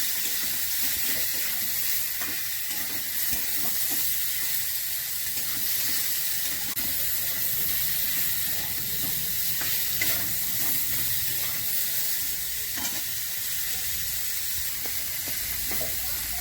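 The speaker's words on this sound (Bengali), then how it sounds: "এবার এই কপিগুলো দিয়ে দিচ্ছি, ফুলকপিগুলো একটু কষিয়ে দেবো" Cauliflower florets fry and get stirred in a sizzling spice paste for a Bengali rohu fish and cauliflower curry, a steady close hiss and crackle with soft scraping stirs throughout.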